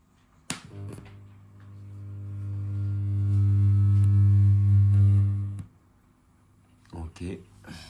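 A switched-on Aliexpress tube amplifier kit lets out a steady low mains hum that swells for a few seconds and then cuts off abruptly, with clicks before and after and a voice speaking once it stops.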